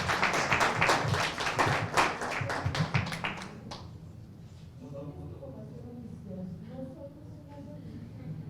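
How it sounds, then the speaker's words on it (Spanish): An audience at a youth workshop's award ceremony claps in a dense burst for about four seconds, then the clapping stops and voices talk quietly. "Un aplauso, por favor."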